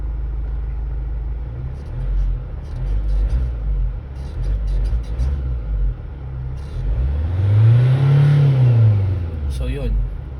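A diesel engine, its MAF sensor freshly cleaned, is revved quickly up to about 4,000 RPM, rising in pitch and falling back over a low idle rumble. The sound is close and loud, with talk over it.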